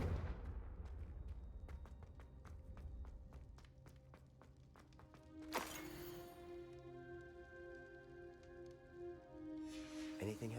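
A fire spell blast from the video game Hogwarts Legacy erupts midway, a sharp loud burst that rings out with a long tonal shimmer, preceded by a rapid train of clicking hits.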